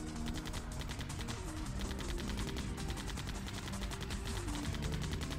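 Rapid gunfire bursts from the post-apocalyptic truck game Hard Truck Apocalypse, a steady stream of shots over a rumbling engine and a droning musical tone, continuous and loud throughout.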